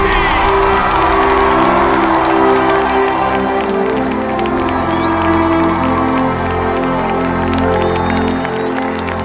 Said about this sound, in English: listening to the thunderous applause from the audience